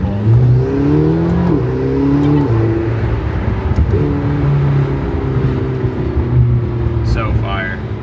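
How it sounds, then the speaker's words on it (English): A sports car pulls hard away from a stop sign on a Miami street, its engine revving through rising gear sweeps with steady loud intake and exhaust roar close by, while people talk over it. "Give you guys a little bit of a pull here after the stop sign as well"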